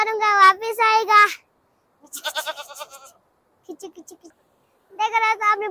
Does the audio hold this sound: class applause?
no